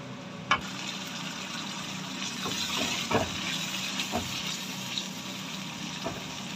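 Onions fry in a pan with salt while cooking daal mash, a low, steady sizzle with a few soft clinks and stirring scrapes, fairly quiet and without speech.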